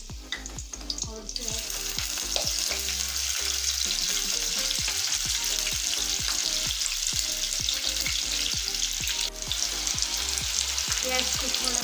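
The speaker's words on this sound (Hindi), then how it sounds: "प्याज को थोड़ा सा ब्राउन कलर आने तक भून लेंगे" Onions fry in oil until lightly browned for market-style egg chutney: a continuous close hiss and crackle with frequent spatula scrapes and knocks against the pan, and no talking.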